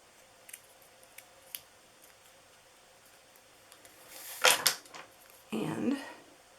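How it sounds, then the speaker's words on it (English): Scissors cutting through a paper banner for a handmade gift box: a few faint clicks at first, then two louder bursts of close, crisp snipping and paper rustling. "Just cut down the center and then the sides."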